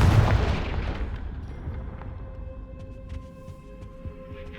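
The Confringo fire spell cast in the video game Hogwarts Legacy, a heavy booming blast at the start that rumbles and decays over a few seconds into a low hum with faint ringing tones.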